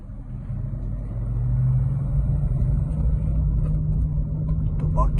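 A car engine hums steadily while driving, a loud, constant low rumble that swells slightly and holds throughout.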